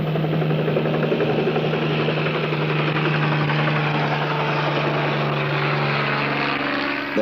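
A helicopter flying overhead gives a loud, steady engine and rotor drone that holds constant throughout, with no pauses and no other sounds.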